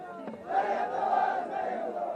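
A crowd at a Gilgit-Baltistan election rally chants a political slogan in unison, a sustained, rising roar of many voices heard from the speaker's stage.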